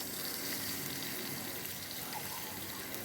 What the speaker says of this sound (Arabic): هنحط حبه ميه